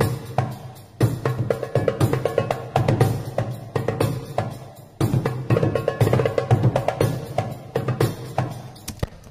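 Djun drums carry a layered orchestral war-drum ensemble, thumping out dense, driving rhythmic hits with a strong low end that pauses briefly around a second in and again near five seconds, then resumes.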